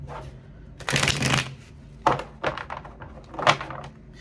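A deck of tarot cards is shuffled by hand, with a longer riffle followed by several short slaps and shuffles, close up and fairly loud with no talking.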